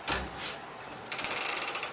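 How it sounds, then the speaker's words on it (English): A quilting frame's ratchet gives a couple of soft turns, then a quick run of crisp, evenly spaced clicks as a quilt is rolled onto the take-up bar, close and fairly quiet. "I'm going to roll it up to the take-up bar."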